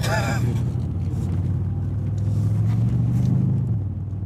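A Mercedes-AMG C63 S Edition 1 engine rumbles deeply and steadily, swelling slightly as it revs, with a low, throaty growl close by.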